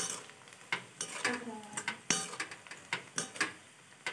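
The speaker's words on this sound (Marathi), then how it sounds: "मग त्याला हलवायचं।" A spoon stirs browned onion with turmeric in a frying pan, giving irregular scraping taps against the metal over a soft, faint sizzle, close by.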